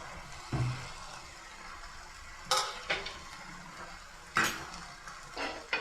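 Paneer cubes dropped into a pan of simmering gravy for Lahori paneer khurma, giving a soft sizzle with a few sharp clatters of a utensil against the pan, no talking.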